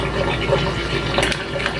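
Water pours into a washing machine filling for the rinse cycle, a loud, steady rushing and splashing that runs continuously up close with no break.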